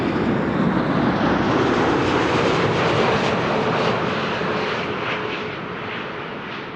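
A LATAM Airways airliner arriving at Amsterdam Schiphol Airport, a loud steady jet roar that holds for several seconds and then eases slightly as the aircraft passes.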